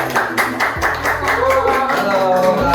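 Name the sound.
audience clapping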